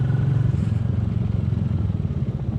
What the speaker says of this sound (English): now you should also hear a little bit of engine sound